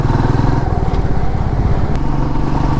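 Motorcycle riding along a fairly empty highway on a long-distance trip from Kolkata to Purulia, a loud, steady engine drone with wind rumble throughout.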